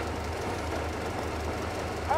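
A rail car engine in the video game Metro Exodus runs with a steady low rumble and throb, continuous and moderately loud throughout, with a faint brief tone near the end.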